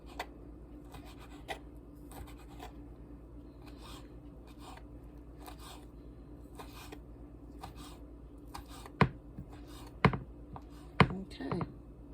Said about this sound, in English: just cut them in little pieces like this